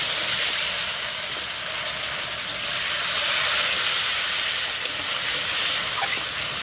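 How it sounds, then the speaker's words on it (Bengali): Water poured into hot fried spice masala for a lote fish curry sets off a loud, steady steam hiss and sizzle that continues close and unbroken throughout, with no talking. "এবার মশলাতে একটু জল দিয়ে দেব।"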